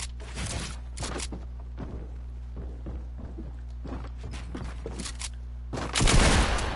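Gunshots in Fortnite crack out as repeated sharp reports spread across the moment, with a louder burst near the end over a steady low game hum.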